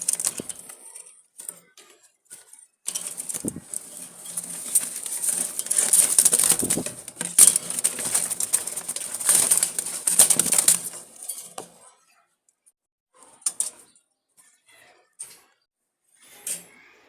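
Wild Jalali pigeons from Dhaka cooing in a loft, with bursts of wing flapping and light clattering, fairly close and sustained for several seconds before tapering to sparse sounds.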